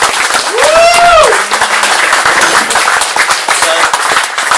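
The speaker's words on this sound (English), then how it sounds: "Give a round of applause!" Audience applause at a live Q&A event: a burst of clapping from a crowd that carries on for the whole short stretch. A cheering voice whoops near the start and people talk over the clapping.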